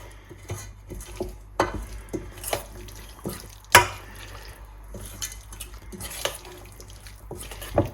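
Tomato vinaigrette gently stirred in a bowl, a spoon scraping and clinking against the sides in repeated soft strokes, with a few sharper knocks, close and fairly quiet.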